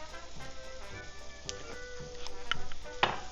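A spoon stirs red beans seasoned with celery salt and smoked paprika in a pot, with soft low sizzling and a few sharp clinks of utensil against metal, growing slightly louder toward the end.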